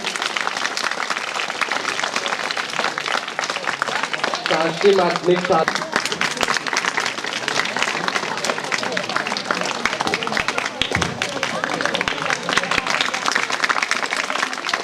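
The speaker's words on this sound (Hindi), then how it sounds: "तालियां बजते रहने चाहिए" An audience at a school performance event in the Kanhan range of South Chhindwara keeps up continuous clapping, while someone speaks over it for much of the time.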